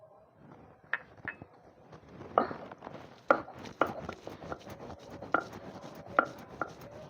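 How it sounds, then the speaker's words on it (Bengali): Green chillies, ginger and poppy seeds are worked into a paste with a series of sharp, close knocks and taps spaced unevenly about every half second, fairly quiet against a still room with no talking. "আমি প্রথমে কাঁচা লঙ্কা আদা আর পোস্তটা বেটে নেব"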